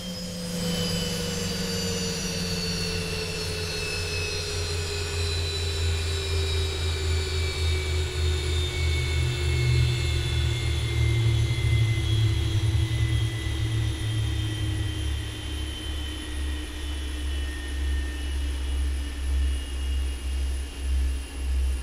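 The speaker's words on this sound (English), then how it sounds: "my favorite part is listening to the engines shut down." Jet engines in the X-Plane 11 flight simulator wind down after a fuel cutoff, their whining tones sliding steadily lower over about twenty seconds under a constant low rumble, loud and close, with no talking.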